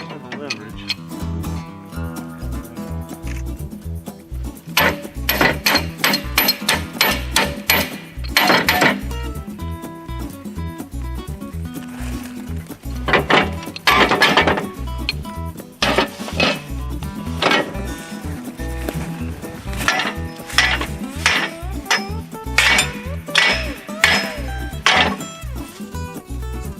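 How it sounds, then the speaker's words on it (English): Heavy sledgehammer blows strike seventy-year-old nuts fused into their holes, a series of sharp metallic impacts ringing out at irregular intervals, loud and close, with some clattering metal between hits. "Sledgehammer to Break it."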